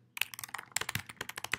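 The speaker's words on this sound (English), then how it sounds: "and start typing." Rapid keystrokes on a computer keyboard while editing page text in the Oxygen website builder, a quick run of about twenty close, crisp clicks with no voices.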